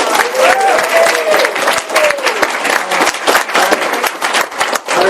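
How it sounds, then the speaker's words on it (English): A round of applause for honorees at a school board meeting, loud dense clapping from the audience sustained across the whole stretch, with a few voices and cheers rising through it. "Let's give them all another round of applause."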